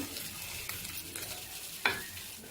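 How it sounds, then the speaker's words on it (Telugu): Stuffed bitter gourds fry in oil in a pan with a steady, close crackling sizzle, and a brief scrape or turn near the end. "మళ్ళీ ఒక టూ మినిట్స్ వేగనివ్వండి ఇంకొక సైడు"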